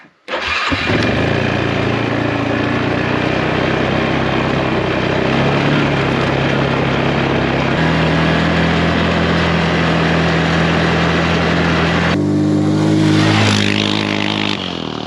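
A quad ATV fitted with four new tyres, its engine starting and then running loud and close with steady revving and shifts in pitch, no talking.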